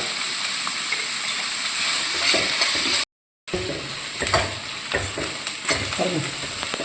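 Sliced onions sauté with a pinch of salt in a hot pan, giving a steady close sizzle and hiss with occasional stirring scrapes, briefly cut off by a short silent gap midway.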